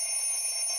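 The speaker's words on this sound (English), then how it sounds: "Sorry for the beeping in the background." Steady high electronic beeping from computer programs running in the background, a continuous tone held throughout at moderate level with no talk.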